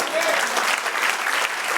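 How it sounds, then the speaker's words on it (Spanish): A church congregation applauds during a worship service, a dense, steady wash of many hands clapping at once for a short burst with no pauses. "Da un aplauso al Señor"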